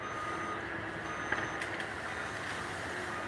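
Reversing beeps from heavy trucks being moved near a street encampment being cleared, a steady, moderately distant tone over constant outdoor traffic and machinery rumble, with no talk.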